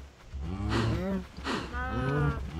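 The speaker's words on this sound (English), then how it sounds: "Darn you cows." Video game cows give two long, close, loud moos, one after another.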